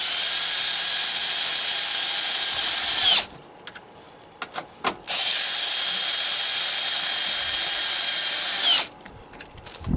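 A power driver whirs loudly while tightening the headlight mounting bolts back down on a 2009 Ford F-150 Lariat, two long sustained runs separated by a quiet pause with a few small clicks.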